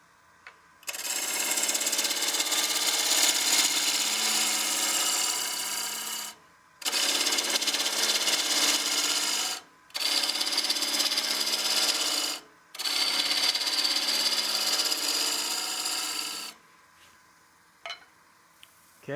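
A bowl gouge cuts a partially seasoned wood bowl spinning on a lathe, a loud, close, rasping shear in four long passes separated by short gaps, then quiet with a few light knocks.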